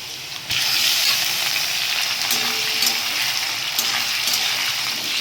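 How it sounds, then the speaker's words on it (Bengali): Shrimp frying lightly in oil in a pan for a Bengali banana-flower curry, giving a steady, close, even sizzle with a few soft clicks and pops and no voices. "চিংড়ি মাছগুলো হালকা ভেজে নিলাম।"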